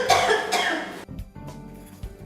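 Two loud, close single coughs, each followed by quieter throat sounds and breathing, with no talk.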